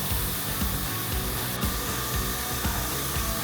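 A spray gun lays high build primer onto a Honda Civic, giving a steady, loud, continuous hiss that runs unbroken throughout with a faint rattling undertone.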